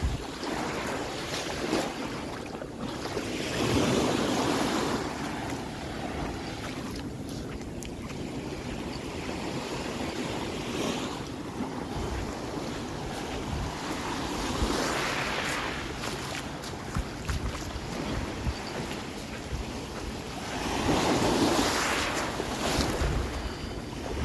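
Ocean waves break along a Hawaii shoreline, recurring washes of surf every several seconds over constant wind rumble, moderately near.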